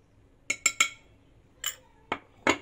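A utensil stirs baking powder into flour in a bowl for a candied-fruit cake. A handful of bright clinks strike the bowl in quick bursts and single taps, close up, with no voices.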